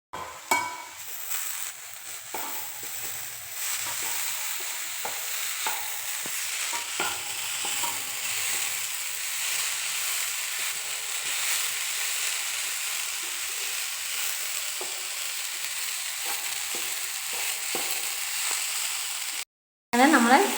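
Papaya thoran, a Kerala stir-fry, is stirred in a hot pan, giving a steady bright sizzle with soft scraping strokes that runs almost continuously, cut by a brief gap near the end.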